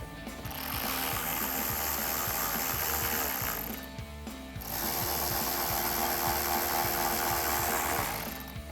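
A ratchet drives two 7mm bolts into the wheel well of a 2015-2017 Ford F-150, giving steady rapid clicking that runs nearly continuously at close range, with one brief pause midway and no talking.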